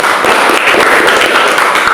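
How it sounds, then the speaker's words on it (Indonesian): A brief burst of dense, even clapping from a small group in a teacher-training class, loud and close, lasting a couple of seconds. "Tepuk tangan untuk Lesti."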